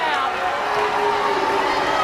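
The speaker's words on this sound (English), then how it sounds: "Also a lot of New Zealanders booing that call." Netball crowd at a World Netball Championships 2011 quarter-final between New Zealand and South Africa booing a call, a steady, dense roar of many voices filling the arena for the whole stretch without a break.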